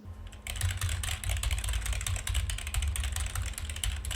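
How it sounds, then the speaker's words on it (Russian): Continuous keyboard clacking from fast typing, picked up by a desk-mounted MAONO DM30 RGB gaming microphone standing beside the keyboard, dense and steady over a low background hum. "если микрофон у вас стоит на столе, а рядом клавиатура, по которой вы часто клацаете, то у вас будет записан вот такой звук"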